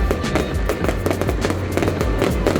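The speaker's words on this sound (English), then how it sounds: "The fireworks grow louder and more intense until the grand finale lights up the entire sky." Dense, continuous fireworks crackle and boom at a festival grand finale, with rapid overlapping bursts and pops filling the air, loud and close, no pauses throughout.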